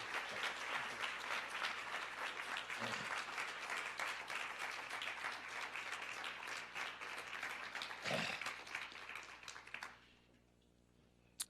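An audience at a campus leadership lecture applauds to welcome speaker Eboo Patel. The clapping is sustained and dense for about ten seconds, then fades out abruptly.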